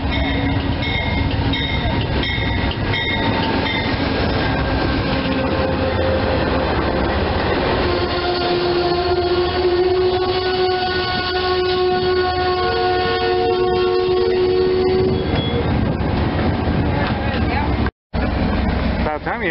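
An Amtrak train passes with a loud, steady roar and rattling of cars over the rails, sustained tonal squeals and whines rising over the rumble, broken by a brief dropout near the end, with voices talking over it.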